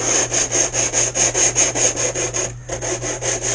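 Sandpaper rubs back and forth along the chamfered edge of a wooden model kit piece to scuff off varnish, a steady rhythmic rasp of about a dozen strokes, close and fairly loud, with a short pause near the end.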